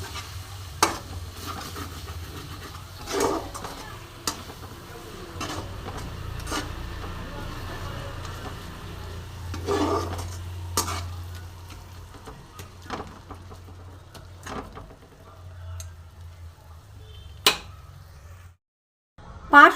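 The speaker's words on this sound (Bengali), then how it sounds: "ফ্লেমটা আমি মিডিয়াম রেখে আমি ভালো করে মশলাটা কষিয়ে নেব।" Spice paste frying in a pan on a medium flame, stirred with scattered sharp scrapes and clinks over a low, steady sizzle.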